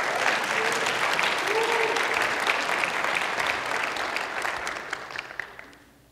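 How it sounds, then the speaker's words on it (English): A church congregation applauds during a 2011 graduate recognition. The clapping is full and steady for several seconds, then tapers off and fades near the end. "You can clap."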